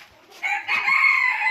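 Farmyard chickens, including a brooding hen, with a single loud, close rooster-like crow or squawk rising after a faint start and holding for about a second.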